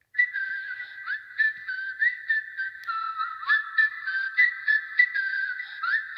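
A bright, melodic whistled tune from a song carries on steadily for several seconds, phrase after phrase, with no voices.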